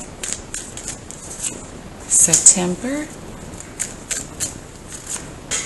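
Tarot cards shuffled by hand as a person speaks, giving soft papery riffles and flicks heard close under and between the talking.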